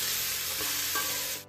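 Pork frying in a pan with little oil, a steady close sizzle with brief crackles and stirring scrapes before it cuts off abruptly.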